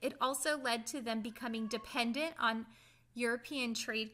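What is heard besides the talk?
None of the usual background noises is heard.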